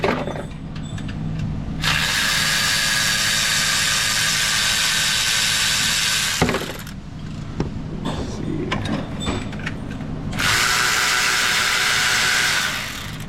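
A ratchet spins in two long, loud bursts as oil pan bolts come off an engine in a repair shop, a fast buzzing whir, with a sharp metallic clank and quieter shop handling noise between the runs.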